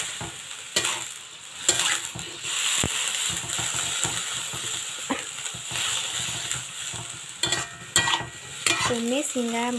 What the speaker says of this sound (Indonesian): Tumis hingga matang.